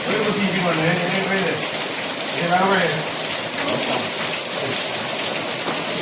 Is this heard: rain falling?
yes